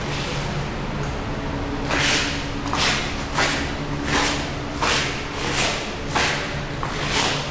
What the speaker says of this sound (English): it's the clear coat stuck to the floor, stuck to my shoes.